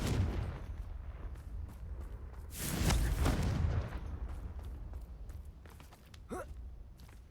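Confringo blasting spell in Hogwarts Legacy: one loud, rumbling blast bursts out and lasts about a second amid game ambience, followed by fainter clicks and a brief tonal chirp.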